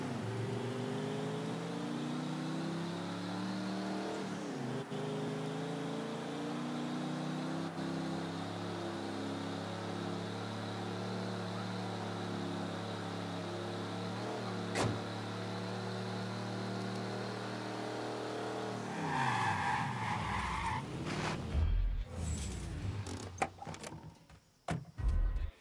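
Car engine in Mafia III, a steady sustained drone with a held rev for most of the stretch, then choppy rattling and impact noises as driving turns rough near the end.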